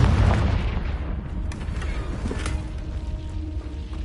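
A Confringo spell detonates against rocks in Hogwarts Legacy: a loud, booming blast at the start that rumbles and slowly fades over the next few seconds, with no voices.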